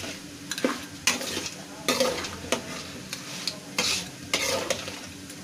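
A spoon works chalta (elephant apple) pickle with vinegar in a pan, making repeated scraping and clattering strokes that form a steady rhythm over a faint sizzle. The sound is close, and no one speaks.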